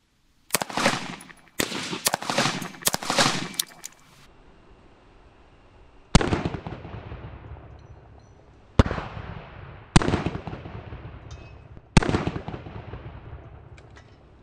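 Rifle shots of 5.56 green tip 62-grain ammunition strike level 4 body armor outdoors: a quick cluster of sharp, loud cracks, then a pause and several spaced single shots, each with a decaying echo tail.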